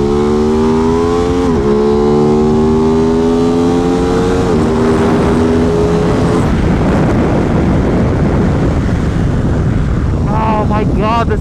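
Loud onboard engine howl of an Aprilia RS660 at speed on a race track, the pitch rising through two quick upshifts before dissolving into a strong, buffeting wind roar.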